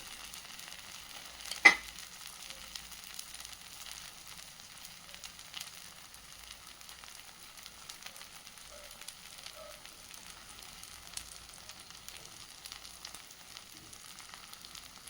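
A sweet potato bun dosa fries gently in ghee on a pan with a faint, continuous sizzle and crackle, close by. A single sharp click sounds early on, and no one speaks.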